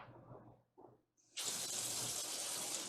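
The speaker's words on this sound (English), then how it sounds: "So when you're done, wash your hand off." Water runs steadily from a kitchen tap as hands are rinsed of butter after making an omelette casserole, a loud continuous broadband rush starting after a few brief quieter sounds and holding to the end.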